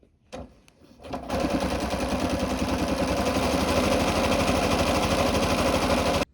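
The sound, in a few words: sewing machine sewing shirring stitches with elastic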